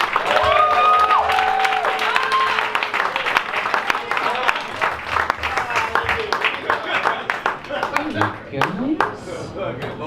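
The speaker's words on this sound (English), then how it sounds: "give everything you have in clapping for my good friend and yours, Jonathan Euseppi." An audience at a stand-up comedy show applauds and claps to welcome a comedian, the clapping strongest at first and then thinning out, with a voice speaking over it.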